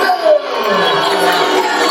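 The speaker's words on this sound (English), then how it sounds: "the crowd is not happy about this decision" Fight crowd at a West Coast Super Lightweight Championship bout reacting to a split decision, a dense sustained roar of shouting voices with a brief louder swell near the start.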